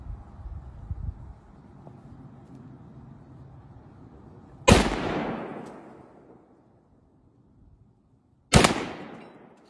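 Two loud, sharp gunshots ring out about four seconds apart, each cracking hard and then tailing off in a short echo, with quiet handling noises before the first.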